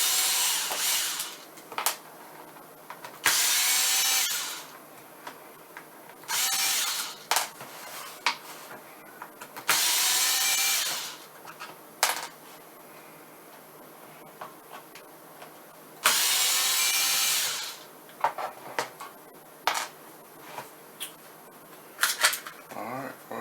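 A driver working T10 security screws out of a Worx 18V lithium battery pack, several short bursts of whirring and scraping at close range with quiet pauses between, fairly soft overall.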